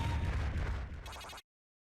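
A bomb blows up in the Super Bomberman 5 video game, one loud, deep burst with crackling that ends abruptly after about a second and a half.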